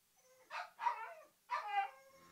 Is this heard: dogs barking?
yes